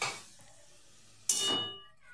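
Chopped cauliflower pieces tipped into a frying pan where beans and potatoes are frying: a quiet background, then a sudden metallic clatter and a short burst of sizzling that fades away.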